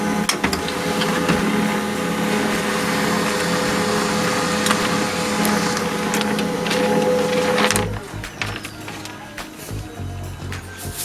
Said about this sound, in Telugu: ఇప్పుడు చూడండి, ఇది ప్రింట్అవుట్ వస్తుంది.